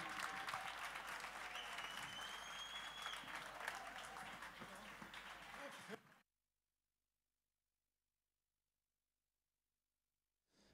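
A crowd applauds at a live concert at Magasins Generaux in Paris, with thick, continuous clapping and some cheering for about six seconds before cutting off into silence.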